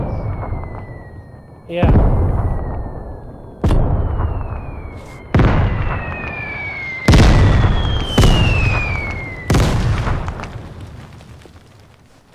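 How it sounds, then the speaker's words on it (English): Mortar shells exploding in the video game Vigor, six loud, close blasts spaced a second or two apart, each a sharp crack decaying into a long rumble with a whistling tone, while a voice says a brief word. "Attention, mortar."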